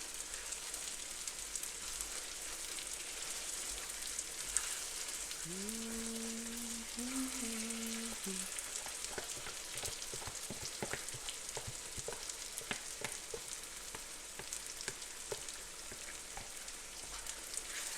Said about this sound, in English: So I'm going to stir it and then leave it to fry a bit as well